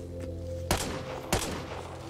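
Two sharp, loud single shots from an M1A SOCOM rifle in the video game Back 4 Blood, spaced about half a second apart over a steady low hum.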